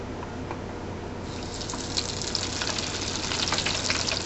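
Okra frying in a deep fryer, a steady bubbling sizzle of hot oil that grows brighter and busier after the first second, with scattered pops over a low constant hum.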